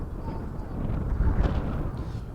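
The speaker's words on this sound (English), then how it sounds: "As you can hear, some gusts going on." Wind gusts sweeping across an outdoor girls' field hockey game, a loud low rumbling buffet on the microphone that swells briefly in the middle of the stretch.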